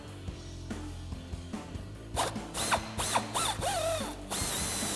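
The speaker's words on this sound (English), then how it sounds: "grab a 10 millimeter swivel socket and extension on our ratchet and go ahead and get that one off" Rapid clicking of a ratchet with a 10 mm swivel socket and extension removing a bumper screw on a 2019-2024 Chevrolet Silverado or GMC Sierra 1500, close ratcheting bursts with a few squeaky turns.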